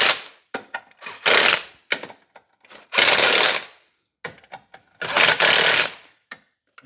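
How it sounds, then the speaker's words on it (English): Ratchet tightening clutch pressure-plate bolts in a garage, sharp rapid clicking bursts in several separate close-up strokes with short pauses and small knocks between them, no voices. "Next we got our ratchet."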